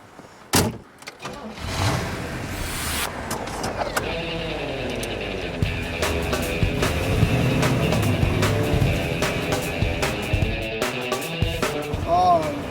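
A 1963 Corvette Stingray with a 300-horsepower V8, heard as sharp clunks and mechanical whirs followed by an engine idling and revving at close range, with people talking over it.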